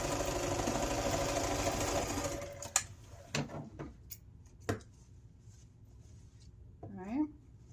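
A sewing machine runs steadily for about two and a half seconds, stitching across a fabric seam at a quarter inch on a hanging storage basket, then stops, followed by a few soft clicks and handling noises and a brief voice.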